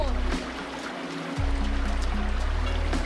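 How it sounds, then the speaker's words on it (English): Water rushes through giant rocks along the Gibb River Road at El Questro Station, making a steady broadband roar over a low droning hum. "It's just rushing water through these giant rocks."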